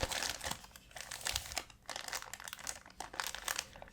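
Plastic packaging crinkling as a package of Pokémon figures is opened, close and soft, in irregular bursts of rustling and crackling with short pauses between, no speech.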